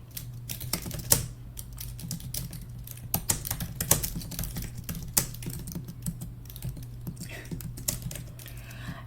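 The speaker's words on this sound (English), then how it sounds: "I cannot type." Steady clatter of keys on a computer keyboard, close and fairly quiet, with irregular bursts of keystrokes running over a low constant hum throughout.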